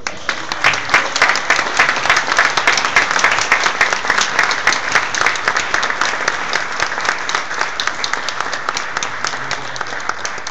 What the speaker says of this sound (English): let's celebrate and give a round of warm applause to our brothers and sisters who visit us today in the state capitol